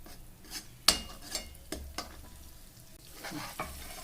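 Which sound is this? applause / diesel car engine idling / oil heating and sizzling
oil heating and sizzling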